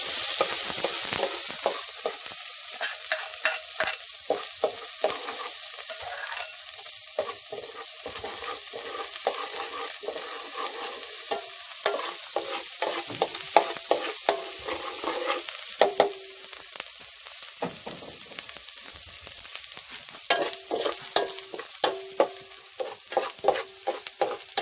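A freshly pounded curry paste is stirred and roasted in a little oil for a traditional gourd and pork curry. A soft, steady sizzle continues with repeated utensil scrapes and stirring clicks, close by and uninterrupted by talk.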